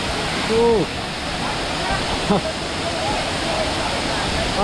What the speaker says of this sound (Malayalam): ദൂരേക്ക് ഇത് നോക്കിയേ, ഗംഭീര വെള്ളച്ചാട്ടം.